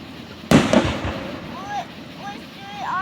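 Fireworks at an Independence Day display in Vian, Oklahoma: one sharp loud burst followed by crackling, then whistling and squealing rockets rising, with people's voices nearby.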